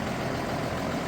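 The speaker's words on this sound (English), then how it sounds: "She's a nice tractor, isn't she?" Tractor engine idling nearby, a steady broadband rumble with no break across the short stretch, fairly loud and alone.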